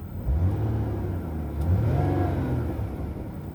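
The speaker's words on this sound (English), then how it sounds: "Let's give it a little rev." A 2006 Ford Taurus engine revs up and eases back down, a close, steady mid-pitched roar that swells briefly in the middle.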